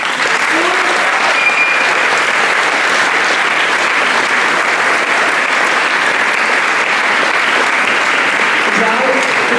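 Sustained, loud applause from an audience at a school end-of-year and national Statehood Day award ceremony, steady dense clapping filling the room for nearly ten seconds, with faint voices mixed in.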